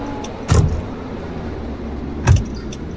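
A car in the Roblox game is driven and parked, with two short, loud mechanical bursts like a door or window rising above a steady low engine hum.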